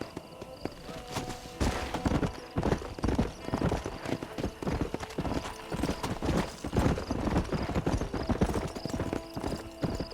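A horse gallops in Red Dead Redemption, its hooves pounding in a fast, steady rhythm close up over outdoor game ambience for the whole stretch.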